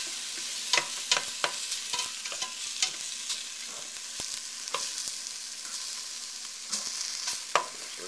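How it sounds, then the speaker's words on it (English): Steady frying sizzle of food searing in oil with bay leaf crackles throughout, with scattered sharp clicks and scrapes of stirring in a pan, fairly close and moderately loud, no voices. "Start to get the sizzle."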